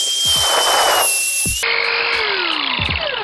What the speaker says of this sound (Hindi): तो चलिए फिर से दोबारा छेद करते हैं।